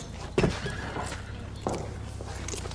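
A horse whinnies in a short burst with a thump nearby, set against a steady background hum, with no talk over it.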